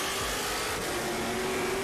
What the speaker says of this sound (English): Up go the revs, on goes the power, but Rafa Matos gets a better start.